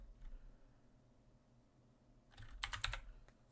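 Computer keyboard typing: quiet room tone at first, then a quick cluster of sharp, close key clicks near the end, about five or six strokes in rapid succession.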